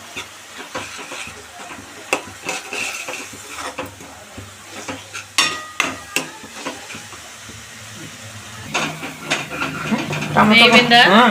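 Ginger paste fries in a pan for a bottle gourd masala curry, giving soft sizzling broken by sharp spoon scrapes and clinks, with a louder sizzle near the end and a voice talking over it.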